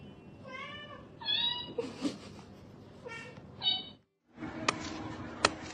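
An orange cat meows repeatedly in short, clear, rising calls, close and fairly loud, with rustling and a brief silence before sharper clattering noises near the end.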